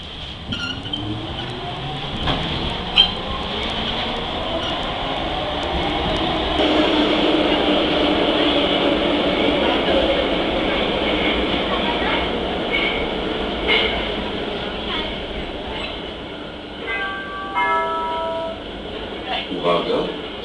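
Warsaw metro train running, a steady loud rumble and rising whine of the rolling cars with occasional squeals and clanks throughout.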